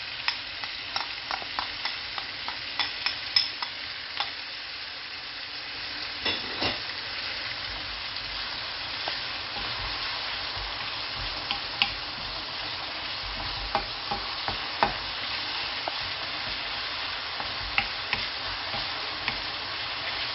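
Ginger garlic paste fries in a pan for a red kidney bean dish, a continuous close sizzle marked by regular light ticks and taps from a spoon stirring against the metal.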